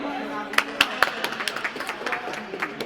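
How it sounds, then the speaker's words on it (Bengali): A group claps in scattered, uneven bursts at a modest distance, with a few sharper individual claps standing out early and the applause thinning toward the end. "সবাই মিলে হাততালি"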